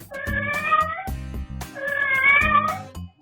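A Maine Coon cat left alone at home cries in two loud, drawn-out, wavering meows close by, with a brief pause between them.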